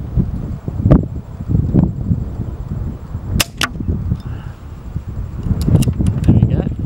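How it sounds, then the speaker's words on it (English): Steady outdoor wind rumbles and buffets against the microphone in uneven gusts, with a few sharp mechanical clicks from an air rifle and a person talking over the blustery background. "Starting to get a bit of wind here."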